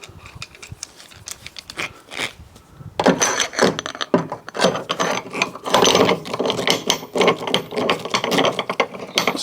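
A part is screwed in on a damaged 2013 Fiat 500 Abarth, with a ratcheting tool clicking in quick irregular bursts up close, starting sparse and growing busier and louder.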